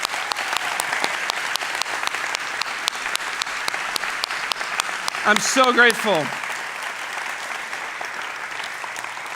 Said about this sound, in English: could you please give them a round of applause from me?